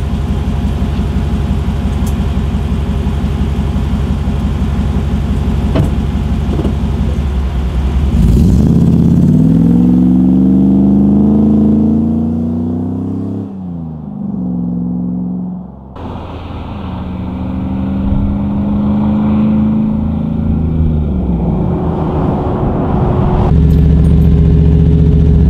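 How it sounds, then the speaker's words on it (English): Hemi V8-swapped Jeep Wrangler, 5.7 liter, revving and launching down a block, heard from outside: a loud, rising engine roar that climbs through gears, dips briefly, then surges again, with steady traffic-like noise at the start. "take a rip down the block, and then you can hear the launch from the outside of the vehicle"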